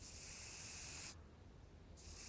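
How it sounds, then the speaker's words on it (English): A steady aerosol bug spray hisses for about a second, stops briefly, then starts again outdoors by a campfire; close and fairly loud. "Oh, and here, bug spray."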